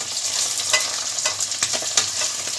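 Duck eggs fry crisp in hot oil, producing a steady sizzling hiss broken by sharp spattering pops and stirring scrapes, close and with no talk.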